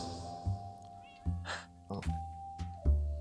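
A cat meows repeatedly in a cat cafe inside a video game, with several short, clear meows spaced about half a second apart over a low background hum and soft thumps.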